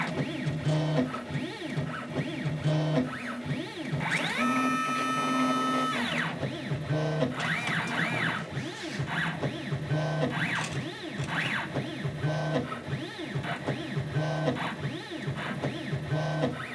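A pen plotter traces center line locations onto a form block for flap and aileron construction, its motors whirring and buzzing in busy repeated strokes with a brief higher-pitched steady whine partway through.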